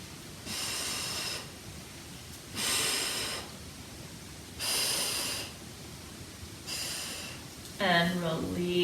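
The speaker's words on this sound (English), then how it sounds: "And breathe." Four slow, deep breaths during a barre stretching session, each a loud breathy exhale or inhale of about a second separated by quiet pauses, then a voice starts talking at the end.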